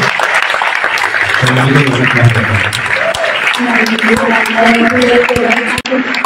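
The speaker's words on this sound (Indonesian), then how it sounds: "Mari kembali kita berikan tepuk tangan yang meriah untuk pemaparan" An audience at Universitas Indonesia's social and political sciences faculty applauds after a national lecture by Anies Baswedan, steady crowd clapping throughout, with a voice speaking over it in the middle.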